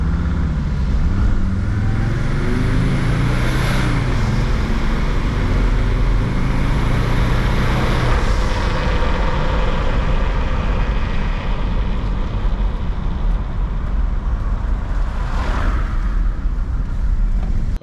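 A Jeep WJ with the 2.7 CRD diesel engine, EGR deleted, runs loud and close with a constant rumbling drone that shifts slightly in pitch as it revs, with no voices.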